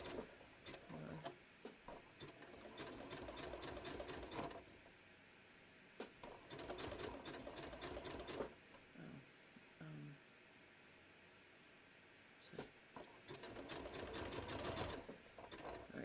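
A sewing machine runs a satin stitch on handmade holiday cards, its rapid mechanical whir coming in several sustained bursts separated by brief quiet pauses, close and alone.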